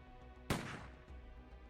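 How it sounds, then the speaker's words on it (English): A single sharp, muffled gunshot rings out in the Riddle Joker visual novel game, a sudden loud burst with a short fading tail over soft, steady background music. "A quick muffled gunshot resounds."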